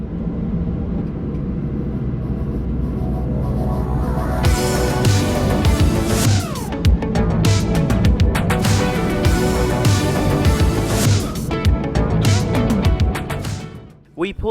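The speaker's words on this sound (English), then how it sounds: "After landing, we taxied back to the terminal via Charlie, Lima, Golf 1 and Golf." A Ryanair airliner taxiing back to the terminal after landing: a loud, steady cabin rumble with engine whine that swells and shifts over about fifteen seconds before dropping away at the end.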